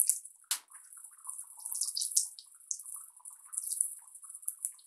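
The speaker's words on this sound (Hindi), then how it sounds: "एक कोफ्ते को चारों ओर से ब्राउन होने तक तलेंगे।" Soya chunk koftas frying in hot oil, a steady bright sizzle and crackle with a sharp splash near the start, close and moderately loud, no talking.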